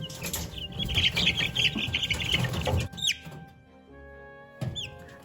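Araucana chicks peeping and scrabbling nearby, a busy stretch of rustling and chirps that drops to a quiet hum before a few more sharp peeps.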